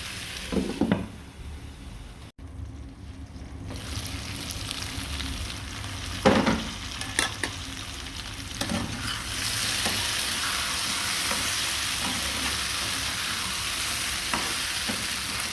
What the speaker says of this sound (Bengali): সবজি কষানো হয়ে গেছে, এখন আমি গরম পানি দিয়ে দেবো।